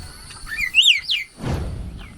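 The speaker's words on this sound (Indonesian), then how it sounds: "Burung jalak kebo namanya." A Javan myna gives a few quick, whistled chirps, rising and falling in pitch, then a soft rustle follows.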